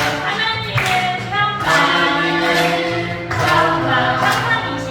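Children at a kindergarten church service sing a worship song while clapping along, steady rhythmic claps beneath loud, continuous group singing.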